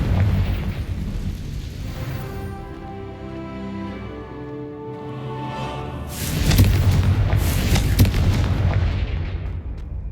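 Confringo blasting spell in Hogwarts Legacy, loud booming explosions with heavy rumbling blasts, a sustained roaring barrage that swells again into a second burst of cracking detonations.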